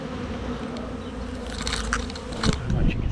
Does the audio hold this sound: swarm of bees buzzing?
yes